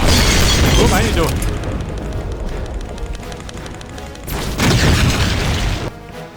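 Grenade blasts in the video game Brutal Wolfenstein boom loud and close: one heavy explosion at the start that rumbles away, then a second blast later, with a voice talking in between.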